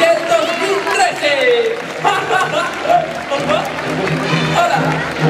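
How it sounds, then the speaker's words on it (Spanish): At a children's carnival queen gala in Las Palmas de Gran Canaria, a crowd applauds child carnival queen Selena with clapping that rises and falls, while a presenter's voice and music carry over the top. "Y un aplauso para Selena, nuestra reina infantil del 2013"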